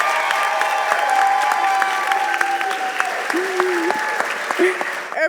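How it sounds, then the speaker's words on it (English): A graduation audience at the Westwood Schools 2023 ceremony gives the senior class a long round of applause, with dense, even clapping, faint cheers and a few whistles rising above it. "give a round of applause for the senior class of"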